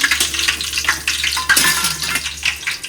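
Cumin, curry leaves and asafoetida crackle and sizzle in hot oil in a home kitchen, with a spoon scraping and clinking against the pan in quick irregular strokes, close and fairly loud.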